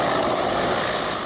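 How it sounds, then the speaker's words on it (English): A Mi-17 V5 military helicopter in flight makes a loud, continuous whirring of rotor and engine with fast, even blade pulses and no talking over it. "The Indian Air Force currently has over 200 Mi-17 V5 helicopters in service."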